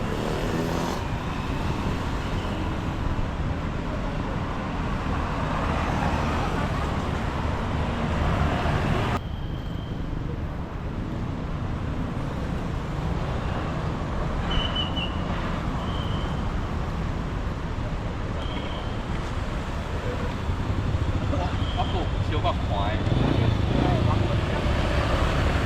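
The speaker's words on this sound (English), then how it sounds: "The traffic is constant, with motorbikes weaving between cars and horns blaring" Constant roadside traffic across from Grand Mall Batam in Indonesia: a steady rumble of cars and motorbikes passing close by, with a few short horn blasts cutting through the noise.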